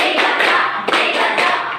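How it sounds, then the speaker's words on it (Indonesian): A group of children in a classroom clap their hands together in a steady rhythm, several loud claps in a row that sound close and fill the room. "kita coba semuanya sambil tepuk tangan"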